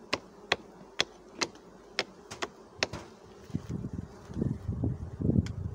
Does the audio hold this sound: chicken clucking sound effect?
no